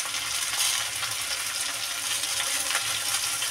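Cumin powder tipped into a fish and plantain curry sizzling in a pan, a loud, steady hiss and crackle of frying that stays close and continuous throughout, with no speech.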